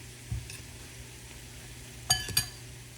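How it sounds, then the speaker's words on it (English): Taco ingredients tossed together in a slightly too-small bowl, with a few light clinks and soft rustling knocks of the utensils against the bowl, close and quiet over low background hum. "we're just gonna kind of toss this to combine"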